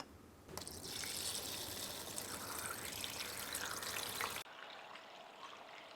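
Water poured into a seed tray of sweet pea seeds for bottom watering: a steady close trickle and splash running for about four seconds, then cutting off to quiet low ambience.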